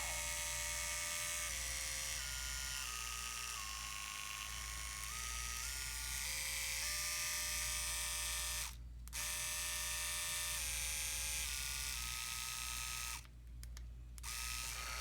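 An Andis Excel 5 Speed hair clipper motor hums steadily, a bright buzzing drone that steps through changes in pitch and cuts out briefly twice, close and alone.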